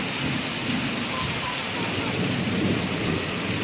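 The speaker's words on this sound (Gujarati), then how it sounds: "જો બહુ વરસાદ ચાલુ થઈ ગયો છે." A thick, loud downpour in Bhavnagar, rain hammering surfaces nearby in an unbroken roar with a low rumbling undertone, no voices standing out.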